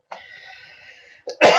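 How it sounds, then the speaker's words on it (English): A person coughs, a short rough cough followed by a pause and then a louder, harsher burst close to the microphone. "When I talk lots, I start to cough."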